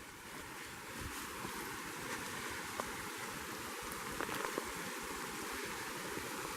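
A small waterfall spills over a long rock slide in Creech Hollow at Montgomery Bell State Park, giving a soft, steady rushing hiss that stays faint and even throughout, with no voices.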